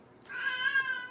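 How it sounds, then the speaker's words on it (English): An old female house cat gives a single drawn-out meow, close and fairly loud, with a clear tonal whine that holds for nearly a second before trailing off. "That's my cat. She's geriatric and confused."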